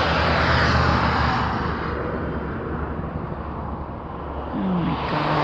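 A continuous heavy engine roar with a rumbling, chopping low end, fairly loud and steady throughout, with no voices.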